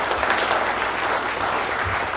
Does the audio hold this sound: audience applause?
yes